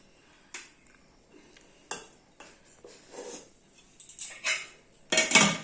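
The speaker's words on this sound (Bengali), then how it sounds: "এই ভাত বাড়ছি" Serving spoons clink against plates and pots as rice is served onto plates for a Sunday lunch, with scattered taps, scrapes and a louder clatter at the end, close and without talk.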